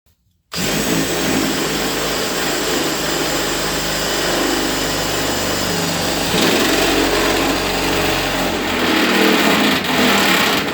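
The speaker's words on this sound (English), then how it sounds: "get the hole drilled and get the wires round" A power drill bores a hole for wiring, starting abruptly and holding a steady, loud, high whine with a gritty broadband edge for about ten seconds.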